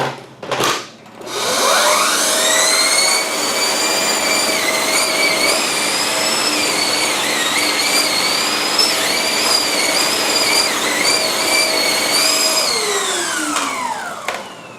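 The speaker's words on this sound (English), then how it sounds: "Alright, it's about as much as we can get with the vacuum." Vacuum cleaner switched on, its motor winding up to a loud steady whine with wavering high tones as it runs over carpet, then spinning down near the end; no voices.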